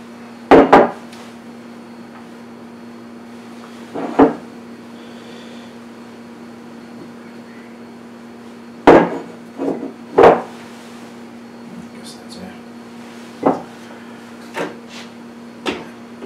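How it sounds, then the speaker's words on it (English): A rubber spatula scrapes brioche dough out of a food processor bowl, giving a few scattered soft knocks and scrapes spread over a steady low hum, with quiet gaps between them. "Scrape that out with a rubber spatula."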